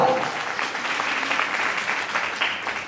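An audience claps during a Hindi religious sermon, producing about three seconds of steady, fairly loud group applause with no voice on top.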